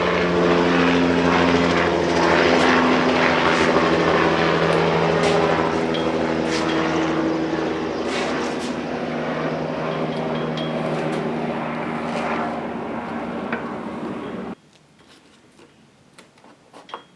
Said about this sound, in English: you can hear a helicopter.